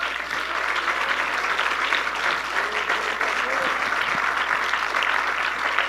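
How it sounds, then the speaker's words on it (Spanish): A church congregation applauds the Lord during a sermon, a dense, steady roar of many hands clapping that holds at full strength throughout with no clear voices over it. "Dele un aplauso al Señor"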